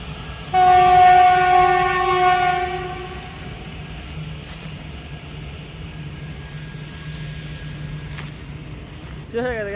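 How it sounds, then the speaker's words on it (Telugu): A train passing on a railway near Araku sounds a long, loud horn blast, then rolls by with a steady rumbling clatter of wagons that fades gradually. "ట్రైన్ వస్తే చాలా బ్యూటిఫుల్గా ఉంటుంది"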